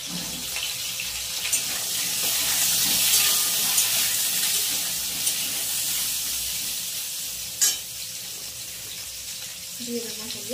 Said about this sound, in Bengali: আমি আগে পটলগুলো ভেজে তুলে নেব।